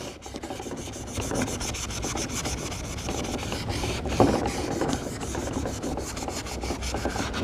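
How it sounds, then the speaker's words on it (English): A yellowed car headlight is wet sanded by hand, making a continuous gritty rasp. Quick back-and-forth strokes repeat close up and fairly quietly, with no talking. "So we're going to continue wet sanding this."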